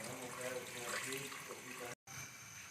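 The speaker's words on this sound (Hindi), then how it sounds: "पानी डाल दिया है" Water pouring into a pressure cooker holding one kilo of beef with ginger, garlic and spices, a steady close splashing fill with a brief cut near the end.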